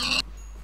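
A short pig grunt from a video game, a single brief bright oink that cuts off abruptly, heard alone and close.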